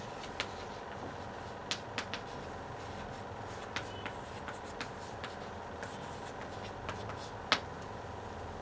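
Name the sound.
writing a sentence by hand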